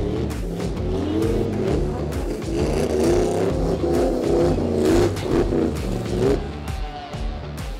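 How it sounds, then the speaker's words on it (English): Rear-wheel-drive Toyota Auris drifting at a Cape Town drift event, its engine revving hard and rising and falling with tire noise, loud and close. "The next shot is going to be of a rear wheel drive Toyota Auris drifting."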